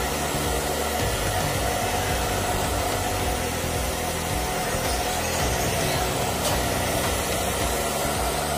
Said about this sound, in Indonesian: Iya, hair dryer.